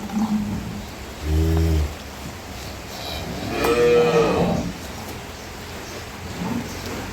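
Dairy cows on a farm give two low moos, a short one and then a longer drawn-out call, over steady outdoor background noise.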